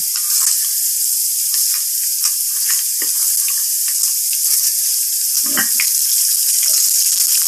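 Steady, bright sizzling of garlic and fenugreek seeds frying in hot oil, with a few soft clinks and pops, no talking.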